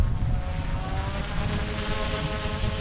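The motor of an Eachine E120S small RC helicopter in flight, its battery starting to run down, gives a continuous buzzing whir with steady rotor hum, close and fairly loud throughout.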